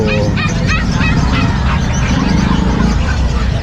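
Noisy poultry calls, a caged turkey gobbling in short repeated bursts at a market amid a loud, busy crowd and machinery hum.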